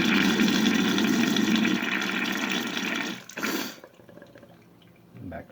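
Water from a sinus rinse bottle gushes loudly through the nose in a steady rushing stream for a few seconds, then breaks off into sputtering drips and a brief gurgle.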